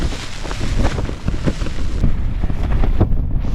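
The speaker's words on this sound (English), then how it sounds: "Being in this tent is like being in a wind tunnel." Strong mountain wind buffets an OEX Phoxx 2 tent during horrendous weather, a loud continuous roar with rough gusting thumps and flapping fabric close to the microphone, no voices.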